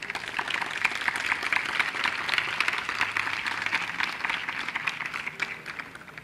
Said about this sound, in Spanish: Les pido le den un fuerte aplauso